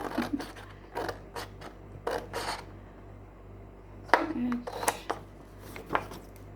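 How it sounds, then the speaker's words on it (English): Scissors make a series of short crisp snips and scratches through 200 GSM printed paper, coming in clustered bursts with quiet gaps in between. "So just cut off this edge."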